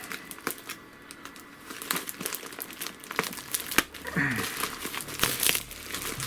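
Plastic packaging film crinkles and crackles in irregular bursts as a parcel is unboxed, with sharp rustles and snaps close by.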